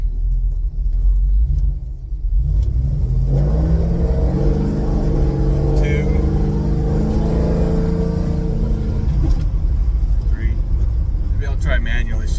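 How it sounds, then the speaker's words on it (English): A Plymouth Cuda with a heavy-duty built transmission accelerating hard, its loud engine roar rising through gear shifts inside the cabin, with someone talking over it. "get on it pretty hard and see how it shifts"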